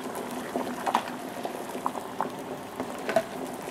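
A pot of water with eggs in it bubbles at a steady rolling boil, with soft pops and gurgles breaking the surface now and then. No voices.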